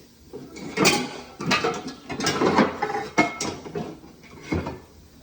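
Kitchen rummaging while a frying pan is fetched: a run of clanks, scrapes and rattling knocks of cookware and cupboard, irregular and close, with no talking.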